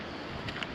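Outdoor wind blows steadily across the microphone on a windy morning by a South Yorkshire canal or river barrage, a brief low, buffeting rush with no speech.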